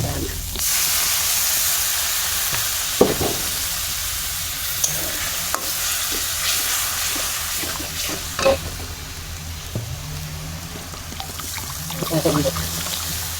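Mustard greens sizzle steadily in a frying pan as water is poured in and stirred, giving a continuous hiss broken by occasional scraping knocks, with a voice faintly present at times.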